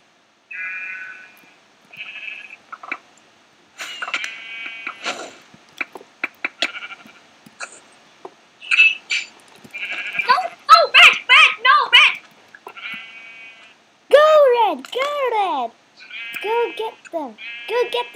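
Repeated video-game sheep bleats in short wavering calls, some overlapping in quick bursts, interspersed with clicks and game effects while players chatter excitedly throughout.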